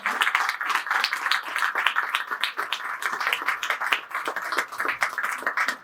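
Sustained applause from a crowd at a Hindi poetry recital, steady dense clapping throughout at a fairly loud, even level with no talking.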